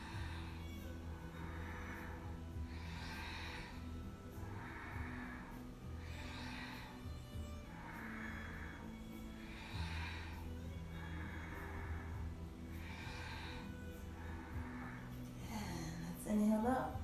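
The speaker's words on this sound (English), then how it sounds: "Inhaling and exhaling." Rapid forceful breathing during a fast kundalini yoga kriya for relieving inner anger, a steady rhythm of about one breath every 1.6 seconds, faint beneath a low droning music bed.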